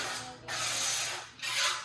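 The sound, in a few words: spraying avocado oil cooking spray on pan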